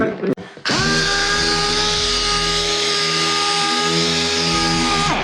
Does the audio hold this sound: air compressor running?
yes